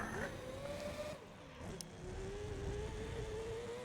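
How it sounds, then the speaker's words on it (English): A Mazda 787B race car's rotary engine in Gran Turismo 3 wails in a high, buzzing tone that climbs, drops briefly at a gear change, then climbs steadily again, a constant close drone. "I absolutely love this 787B engine"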